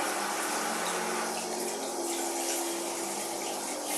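Water runs steadily from a tap, a continuous close hiss and splash with no pauses.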